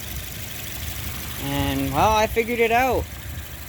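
A Toyota Yaris 1ZZ engine idles steadily with an adjusted throttle body, its hum briefly rising and falling in pitch as the revs are blipped, while someone talks over it.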